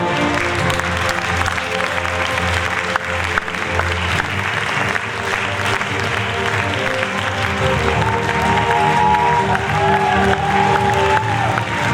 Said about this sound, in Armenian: Եվ իհարկե ծափարենք ինքներս մեզ, ծափարությունները ձեր են